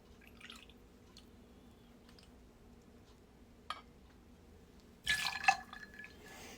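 Fernet Branca pours into a cocktail jigger in one short liquid splash, with a faint glassy tick earlier, against an otherwise quiet bar setting.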